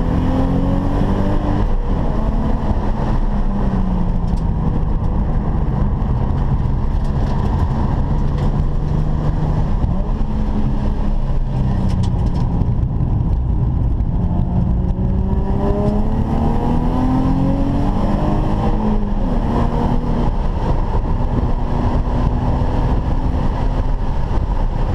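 A car lapping a track on hot tires, handling like a big go-kart, its steady engine drone rising and falling through gear changes and revs, loud and close throughout with no voices.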